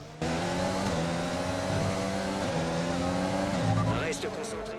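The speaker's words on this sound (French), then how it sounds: "Alors Stroll prend le dessus sur moi, je le laisse quand même passer" Formula 1 race cars roar in the F1 2020 video game at Sakhir, Bahrain, a sustained close engine whine with shifting pitch as one car overtakes another, ending in brief tire squeal, with no talking.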